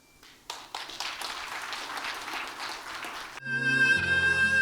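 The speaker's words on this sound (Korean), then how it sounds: "우리 김정혜 시인님을 박수로 모시겠습니다" Audience applause greeting the poet Kim Jeong-hye at a literary award ceremony, a steady burst of clapping for about three seconds, then giving way to music.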